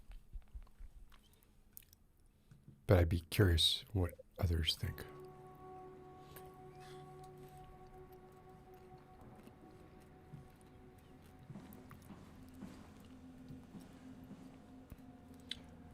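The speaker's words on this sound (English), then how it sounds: "What I'm chewing on here are hint of lime Tostitos." Crunchy chewing of hint of lime Tostitos tortilla chips, loud close-up bites in a short burst, followed by quieter background with a game's ambient hum and someone talking.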